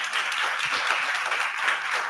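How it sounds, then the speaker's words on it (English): Applause for panelists closing a session at a queer arts event, a steady wash of clapping from a room audience that runs for about two seconds with no talk over it. "a round of applause is very much warranted"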